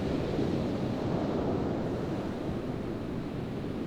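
Waves break steadily on the beach at Horsey where grey seals breed, a continuous close rushing roar with no voices.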